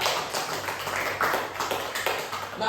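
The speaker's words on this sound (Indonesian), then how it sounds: "Tepuk tangan untuk kita semuanya" Applause in a classroom during a microteaching lesson, a continuous dense patter of many hands at moderate loudness with no talk over it.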